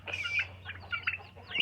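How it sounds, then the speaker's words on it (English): Farm poultry pen holding turkeys, ducks and chicks, with short clucking and chirping calls in uneven bursts over a steady low hum, moderately close and without speech. "I have 4 turkeys. Here's some ducks down there and chicks."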